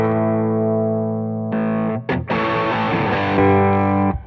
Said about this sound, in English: High gain is literally a traditional high gain distortion pedal.